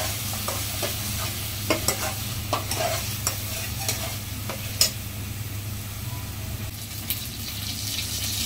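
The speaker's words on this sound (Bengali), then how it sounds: "আমরা আদা বাটা এবং রসুন বাটা দিয়ে কিছু নেড়ে নিব।" Ginger and garlic paste stirred in a hot frying pan for mutton biryani, a steady sizzle broken by scattered scraping clicks of the spoon against the pan, close and alone without talk.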